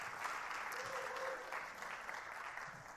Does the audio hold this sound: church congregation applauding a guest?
yes